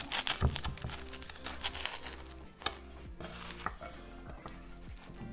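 Cutlery scraping and clinking on a plate while a smoked sausage breakfast sandwich cooked on a Ninja Foodi grill is cut apart, a run of close, light taps and scrapes with soft crinkling in a quiet kitchen.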